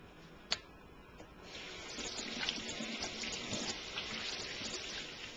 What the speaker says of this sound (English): You always gotta wash your hands before you start.